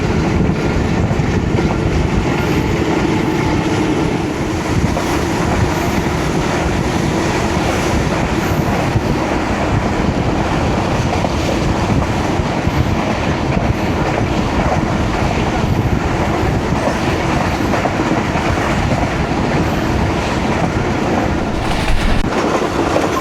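The Babu Passenger train runs on rails from Lala Musa toward Lahore in heavy rain, a loud, unbroken rumble of rolling wheels mixed with rushing wind over the whole stretch.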